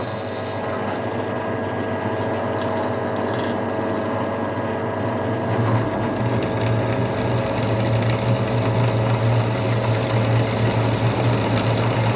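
A steady mechanical whir drones throughout, deepening and loudening about halfway as a power drill with a large bit bores into material on a truck.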